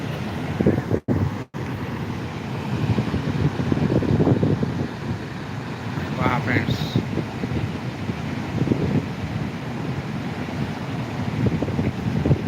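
Floodwater of the Manjara river in full spate, a steady broad rushing roar with wind buffeting the microphone, continuous and fairly close, with brief dropouts early on and no speech.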